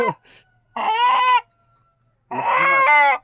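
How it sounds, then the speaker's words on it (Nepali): Two loud rooster crows close by, each a long harmonic call, separated by a pause with a brief short call at the start. "यो भालेको नाम जमारे"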